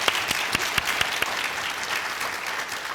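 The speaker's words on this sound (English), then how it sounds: "Let's give our 5th grade participants another round of applause" An audience at a school district literacy competition applauds its 5th grade participants, a steady wash of clapping from many hands with a few sharper claps standing out, no voices over it.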